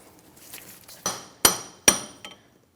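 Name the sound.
knocking out a stuck front CV axle, Chrysler 300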